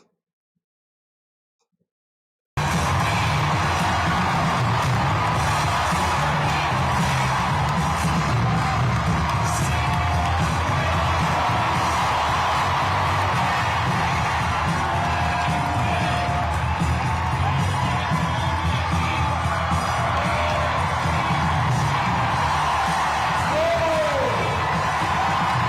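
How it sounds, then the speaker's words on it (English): A large arena crowd at a packed political rally cheers and roars continuously, loud and dense, with whoops and shouts rising over a steady wall of noise. "I bet if you were outside of this place, you could hear the crowd."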